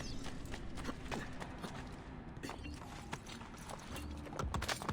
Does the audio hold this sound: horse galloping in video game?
yes